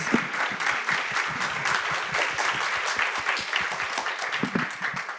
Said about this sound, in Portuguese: eu queria uma salva de palmas para os nossos painelistas